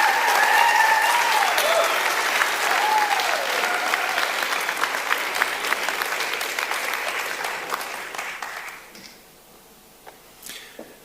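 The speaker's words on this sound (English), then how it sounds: "Let's give him a big round of applause." Audience at an awards ceremony clapping loudly and steadily with a few whoops, the applause fading out toward the end, leaving a quiet room with a couple of faint knocks.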